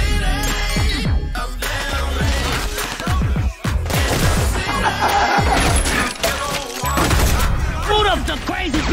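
Shootout gunfire from an action-comedy movie trailer, dense volleys of shots mixed with smashing, shattering impacts and booms, all under continuous shouting voices and music.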